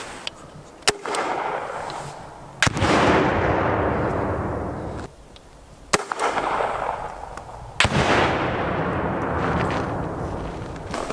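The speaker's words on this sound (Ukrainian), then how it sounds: "Маленький гранатометик для піхоти, однозарядний Heckler e Koch, дуже легесенький і дуже ефективний в стрільбі на 350 метрів." A light single-shot Heckler & Koch infantry grenade launcher fires outdoors, giving several sharp loud reports, each followed by a long rolling boom that decays over a couple of seconds, with no voices.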